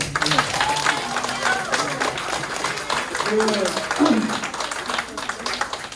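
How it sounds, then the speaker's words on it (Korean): A church congregation claps together for Subin, a steady crowd of hands running throughout while voices talk and call out over the applause. "우리 수빈이를 위해서 우리 박수 한번."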